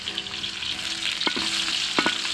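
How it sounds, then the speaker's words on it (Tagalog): Garlic and onion sautéing in a pan give a steady close sizzle, broken by a few brief scrapes and knocks of stirring, with no voices. "nilagay na ang bawang ganun din ang sibuyas"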